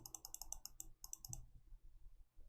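Quick bursts of clicky keystrokes on a computer keyboard, two short runs of typing close to the mic, then quiet room tone.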